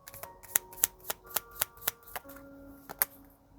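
Angel oracle cards shuffled for a tarot reading, a run of about a dozen crisp card riffs and snaps in an uneven rhythm, close and fairly loud over a faint steady tone.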